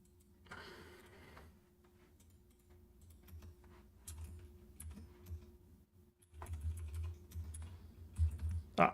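Keys clatter on a computer keyboard at a coding desk in uneven bursts, close and moderately loud, over a low steady hum.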